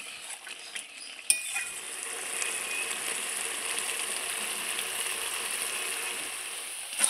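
Jackfruit and potato curry sautéed in oil in a pan, a steady hiss of sizzling after a sharp clink of a utensil, close and continuous.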